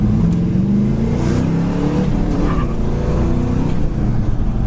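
A 1972 Chevrolet Super Sport's 350 small-block V8 revs loudly and close by, a continuous throaty roar that swells and holds without pause.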